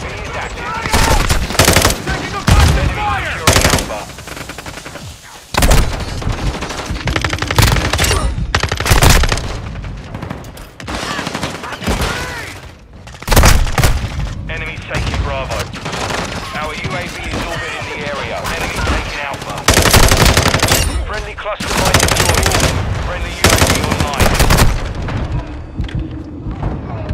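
Gunfire in the Modern Warfare 2 video game, dense bursts of rapid automatic shots and single cracks nearly continuous for the whole stretch, loud and close, mixed with booms and occasional shouted callouts.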